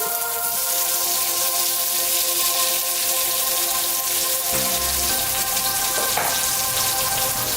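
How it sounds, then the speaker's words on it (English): Onion frying quickly in a pan with small beef chunks, a dense continuous hiss and crackle of hot oil, loud and close, with a faint steady hum underneath. "I'm going to fry the onion really quickly."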